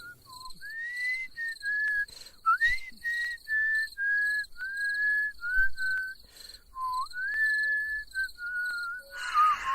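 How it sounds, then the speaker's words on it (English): A character in Fallout 76 whistles a Christmas carol, a clear, melodic tune of held and sliding notes that sounds close and stands alone over faint insect-like chirping in the background. "He's whistling Christmas carols in October."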